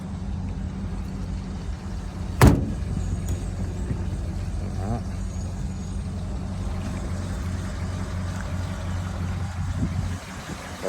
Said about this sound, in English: But it idles great,